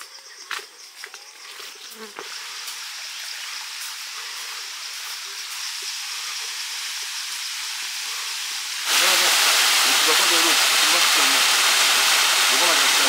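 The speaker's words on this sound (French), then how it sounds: "Nous sommes arrivés à la cascade de Tokli." The Tokli waterfall near Kpalimé, Togo: buzzing insects and faint outdoor sounds give way to a sudden, loud, continuous roar of falling water that carries on to the end.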